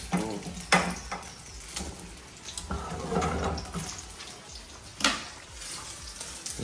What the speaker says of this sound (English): And that's a little bit of water. I put a little bit more in there.